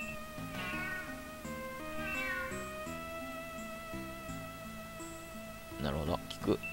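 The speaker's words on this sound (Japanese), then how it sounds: "猫。" A cat meows in the retro video game Snatcher on PC Engine, with several short meows over game music and a person talking throughout.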